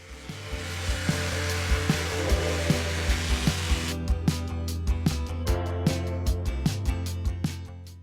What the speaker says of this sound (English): give the whole table a good sand